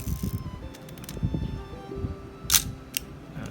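A Nikon FM film camera has its film advanced by hand, giving a few close, crisp mechanical clicks and ratchet ticks over quiet background noise.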